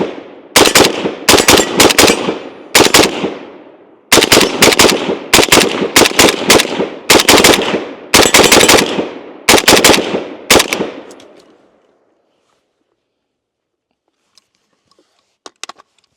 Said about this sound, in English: let's go ahead and take our final shots with the M72